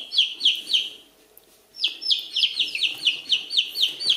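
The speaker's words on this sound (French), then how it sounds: "Ça, c'est un petit poussin Wyandotte," A black and white Wyandotte chick gives loud, close, rapid high-pitched peeping chirps in quick repeated bursts, with a brief pause in the middle before the cheeping resumes steadily.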